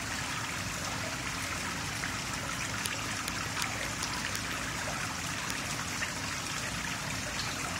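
Water from an indoor koi pond in an Asian-style interior garden in a hotel lobby trickles and splashes steadily, a soft continuous burble with no voices.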